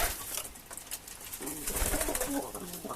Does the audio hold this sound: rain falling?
no